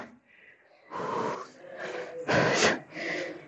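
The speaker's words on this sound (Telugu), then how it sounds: "శ్వాస అయితే చాలా ఇబ్బందిగా ఉంది." Heavy, laboured breathing from people climbing out of a limestone cave passage at Yadiki, with several loud, ragged breaths and gasps close to the listener, and a brief voice partway through.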